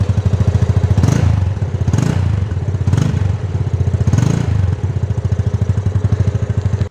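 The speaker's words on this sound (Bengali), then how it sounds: "আপনারা অনেকেই এটার ইঞ্জিনের সাউন্ড শোনার জন্য মুখিয়ে আছেন, আমি আপনাদেরকে ইঞ্জিনের সাউন্ড শোনানোর চেষ্টা করি" Yamaha FZS 250 motorcycle engine idling steadily close by, a loud continuous rumble with a few brief blips of throttle, no talk.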